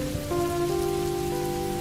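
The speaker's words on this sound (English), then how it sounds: "And the rain was falling hard." Steady rain pours down in a continuous wash with a faint tonal hum running underneath, no voices present.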